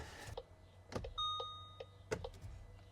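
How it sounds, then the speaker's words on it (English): A VW instrument cluster sounds its warning chimes after a repair: a few short, clear electronic dings with sustained tonal tones around the middle, fairly quiet against faint background rumble, with no talking. "All the dings and the chimes work."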